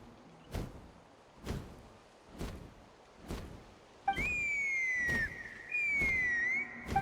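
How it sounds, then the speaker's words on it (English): A sustained two-tone whistle in Genshin Impact, long sliding notes held for about a second each, following a run of evenly spaced soft thumps, fairly close and clear against a quiet background. "That sounded like a whistle."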